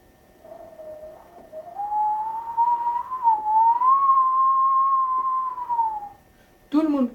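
A person whistling with the mouth, holding one sustained clear tone that rises slightly and wavers gently for several seconds alone, followed by a brief burst of voice at the end.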